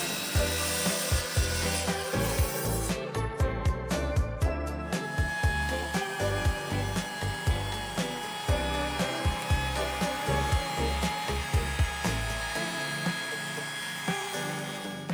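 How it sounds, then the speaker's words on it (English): Palm router running steadily while rounding the edges of a wooden sign board, with a constant whine and repeated rhythmic thumps and scrapes as the bit works along the wood, close and alone. "soften the edges with the rounder a bit using my palm router."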